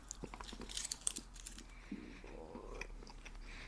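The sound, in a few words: chewing chewy candies, ASMR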